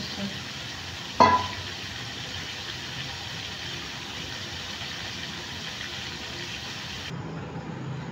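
Soaked potatoes dropped into a hot frying pan and stirred: a sharp clatter at the start, then a steady, even sizzle that continues before cutting off near the end.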